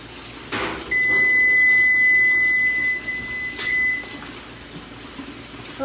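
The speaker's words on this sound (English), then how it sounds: "you can hear that my timer just went off" A kitchen timer goes off beside an oven while cornbread bakes: a steady, piercing electronic beep tone holds for a couple of seconds, then a shorter second burst, loud and close with quiet kitchen noise around it.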